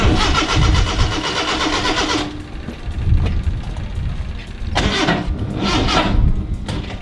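A Datsun Sunny pickup truck's starter cranking with a weak battery, a loud steady grinding churn that cuts out, then tries again in short surges, close and alone without talk.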